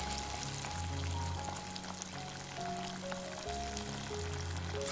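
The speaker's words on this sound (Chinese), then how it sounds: "转成小火，依次下入虾饼" Thai shrimp cakes slide one by one into hot oil over low heat, a continuous bubbling sizzle with a few soft splashes and clinks, no voices.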